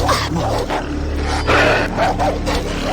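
Dogs barking in the Far Cry 3 video game, short, repeated barks and yaps over a constant game background hum, close and fairly loud.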